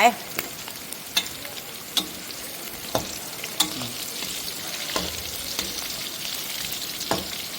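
Meat deep-frying in hot oil, with a steady bubbling sizzle throughout and sharp clicks or pops at roughly regular intervals, close and moderately loud, with no talking.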